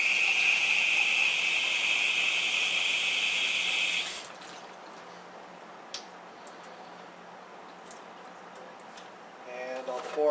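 Liquid pours steadily into a jug in a loud, bright rush for about four seconds, then stops, leaving faint room noise and a few small clinks.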